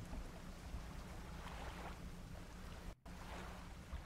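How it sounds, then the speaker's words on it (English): Stormy wind at sea in the fishing video game Dredge, a quiet, continuous rushing hiss with a low rumble beneath and one brief dropout near the end. "There's definitely a storm coming."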